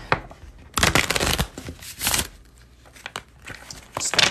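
A deck of cards for a reading is shuffled by hand in several rustling, riffling bursts, close and moderately loud, separated by short pauses.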